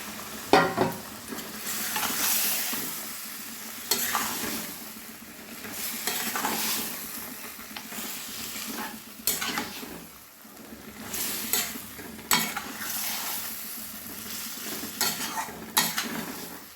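Chicken pieces for Bengali chicken kosha are stir-fried over a high flame, with continuous loud sizzling and repeated scraping of a spatula against the pan in an uneven rhythm, and no talking.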